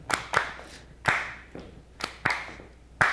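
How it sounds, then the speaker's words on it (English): Sharp hand claps from a Watermelon Crawl line dance ring out in an uneven, syncopated pattern, about eight crisp claps in quick groups, close and clear with nothing else. "Mix up the clapping just for fun, something different to do."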